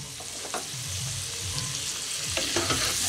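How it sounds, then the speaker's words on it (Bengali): Chopped tomato, slit green chilies and turmeric powder stir-fry in a pan, sizzling steadily while a utensil scrapes and stirs in a few distinct strokes, close and moderately loud, with no voices. "দিয়ে আমি এগুলোকে আরও 2 মিনিট একসঙ্গে কষিয়ে নেবো"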